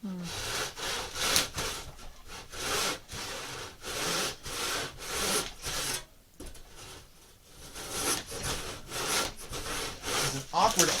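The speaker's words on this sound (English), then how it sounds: "It's an awkward angle to be sawing at" Wood is being cut with a hand saw while a boat half hull model is carved, the close rasping back-and-forth strokes coming in a steady rhythm with a short pause midway and no talking.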